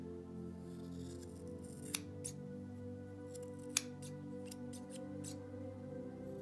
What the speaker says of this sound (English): Then you're going to scissor all of that hair up.